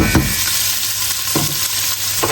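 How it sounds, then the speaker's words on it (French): Shrimp and rosemary fry in a hot pan with oil, giving a steady sizzle that is broken by a few scraping stirs, close and with no voices. "Et là, on fait revenir tout ce petit monde."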